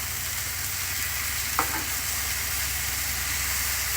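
Steak and about a dozen eggs fry on a hot cooking surface, a steady dense sizzle and hiss that fills the whole clip with no voices, near and fairly loud.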